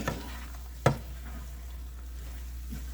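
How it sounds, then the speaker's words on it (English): A rice dish stirred in a pan, a low frying sizzle under one sharp utensil knock near the start of the stir, close and without talk. "I'm just going to stir this all up"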